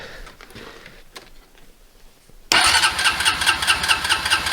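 A Honda TRX350 ATV fitted with dual snorkels cranks and fires, going from a quiet idle-like hum to a sudden loud, steady engine roar that stays close and strong after starting.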